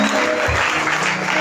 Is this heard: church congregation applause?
yes